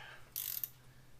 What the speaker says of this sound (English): we're going to go ahead and pull the caliper bolts off